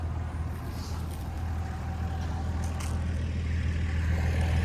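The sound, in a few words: loud pickup truck passing by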